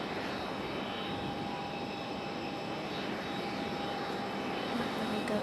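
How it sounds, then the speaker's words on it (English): A Southwest Boeing 737-800 arriving from Chicago Midway at Raleigh-Durham approaches with a steady jet rumble and faint engine whine, a constant distant roar growing slightly louder toward the end. "Southwest 2856 at 737 800 coming in from Chicago Midway."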